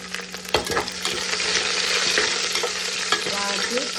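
Mustard seeds and chopped garlic frying in a pan, a continuous hiss and crackle with a few sharp pops and scraping stirs, close and loud, no voices.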